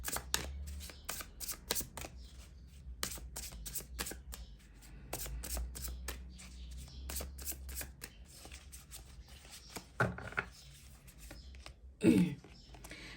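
Tarot cards being shuffled and drawn by hand, with soft repeated riffling and slapping bursts in quick irregular rhythm, close and fairly quiet, ending with a few louder handling sounds.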